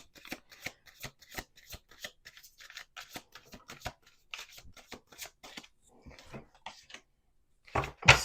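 Crisp riffling of playing cards being shuffled, several quick bursts in a row with short pauses, close and fairly loud.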